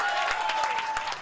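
A studio or event audience breaks into brief applause after an announcement, a dense patter of clapping hands that fades out quickly.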